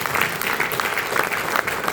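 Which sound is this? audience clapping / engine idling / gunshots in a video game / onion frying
audience clapping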